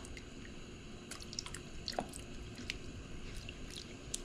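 A sauce with ketchup and Worcestershire being stirred in a pot on the stove, giving faint wet squishing and dripping sounds with a few sharp clicks, steady and quiet with no talking.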